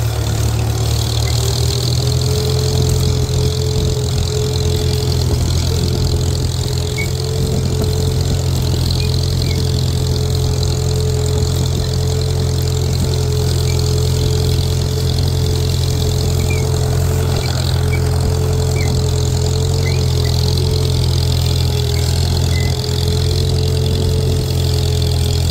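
A Farmall M-type tractor engine runs steadily at raised throttle while setting out to pull a disk through corn stalks, a loud, continuous low drone with a constant hum and no talk.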